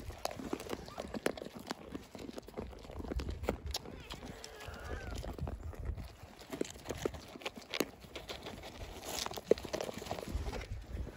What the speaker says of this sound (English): This is the sound of 3 goats crunching.